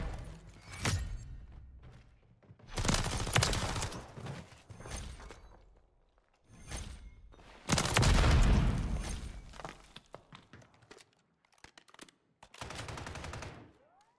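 Gunfire in Modern Warfare 3: separate bursts of automatic rifle fire, sharp and close, broken up by short quiet gaps, with one heavier, louder volley in the middle.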